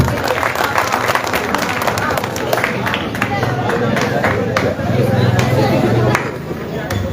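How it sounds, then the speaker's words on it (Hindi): Poetry gathering (mushaira) audience in Walandi breaking into steady, dense applause and clapping mixed with crowd murmur, continuous and fairly loud across the whole stretch. "एक बार खुद के लिए जोरदार तालियां बजाइए प्लीज"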